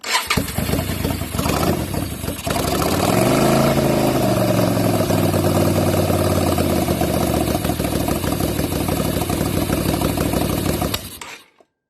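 An engine cranks and catches after an air filter change, then settles into a loud, steady idle with a rising and falling pitch before cutting off abruptly near the end.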